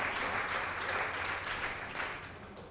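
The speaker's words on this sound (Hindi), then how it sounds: "जोरदार तालियां।" Audience applause at an open mic event at an awards show, a steady wash of clapping heard alone, fairly quiet and fading slightly toward the end.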